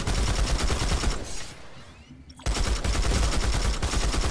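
Steady, rhythmic gunfire from a slow-firing gun in a video game, evenly spaced loud shots that pause briefly in the middle before resuming at the same pace.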